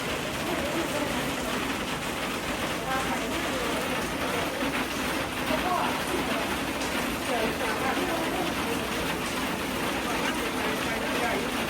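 Rain falling steadily outdoors, a constant dense hiss that fills the whole stretch without pause, with faint voices underneath.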